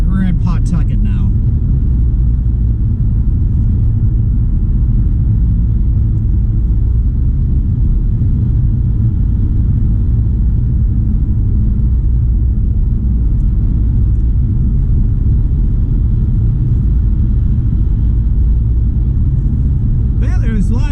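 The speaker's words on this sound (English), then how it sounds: "There's a lot of traffic going on in here" Heavy traffic on I-95 North near Pawtucket rumbles past a moving car, a loud continuous low road roar with tire noise and passing vehicles swelling and fading, while people talk inside the car.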